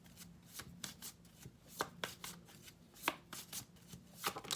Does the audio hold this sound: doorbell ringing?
no